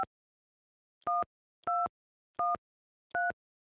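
A telephone rings with four evenly spaced electronic trills, each about a quarter second long, clear and alone against silence.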